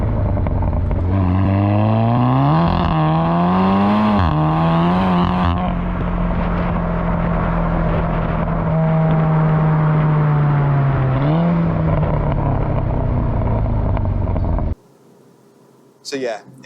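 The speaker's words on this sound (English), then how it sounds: "If I just pop it into Cupra mode here, we'll give it a burst." A Stage 2 R-Tech tuned 370 hp Seat Leon Cupra MK3 accelerates hard in Cupra mode, its engine note climbing and dropping through several quick gear changes, then holding a steady drone before cutting off abruptly.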